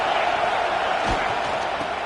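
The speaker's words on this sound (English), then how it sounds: "This crowd ready to make its presence known." Stadium crowd noise from a college football video game, a dense continuous roar with rising cheers, heard throughout at steady loudness with a few thumps near the middle.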